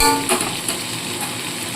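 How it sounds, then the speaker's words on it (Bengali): Potato pieces fry in hot oil with a brief, dense, steady sizzle and a couple of faint clinks, close and fairly loud. "আমি শুধু আলুগুলোকে তেলের মধ্যে ভেজে তুলে নেব"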